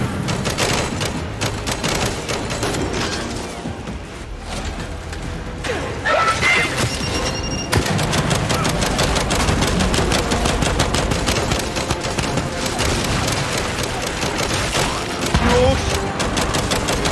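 Sustained gunfire in Gears 5, rapid automatic bursts rattling almost continuously and loud, with brief pauses and a few sharper mechanical clanks amid the barrage.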